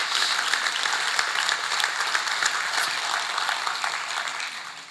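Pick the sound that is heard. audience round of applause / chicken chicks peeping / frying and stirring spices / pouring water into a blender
audience round of applause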